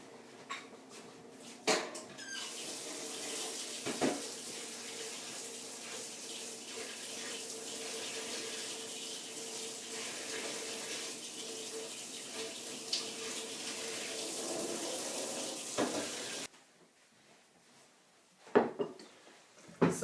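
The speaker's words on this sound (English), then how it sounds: "I'm just going to rinse all of these brushes in my sink." Makeup brushes being rinsed under a running sink tap, a steady close hiss of water that cuts off near the end, followed by a few faint clinks and handling sounds.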